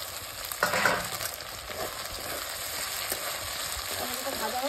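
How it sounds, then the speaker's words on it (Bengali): Tomato sizzles in hot oil in a pan in a village kitchen where meat is being cooked, a steady crackling fry with a few stirring scrapes and no voices. "টমেটোটা ভাজা হোক"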